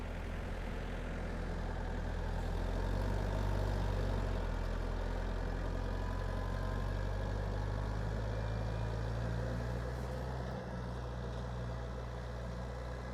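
A DTZ 5404 tractor hauling a 2/30 plow through a field. Its engine drones loud and close without a break, a deep steady rumble with only slight swells in pitch and no voices.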